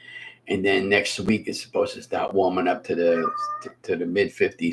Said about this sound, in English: that was my cat meowing